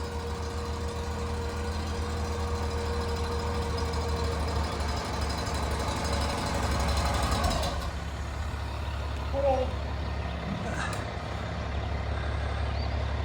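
Motor of a sprayer pump for spongy moth caterpillar control running on a cold morning, a steady low drone with a faint whine that eases off partway, followed by a few brief clanks and squeaks.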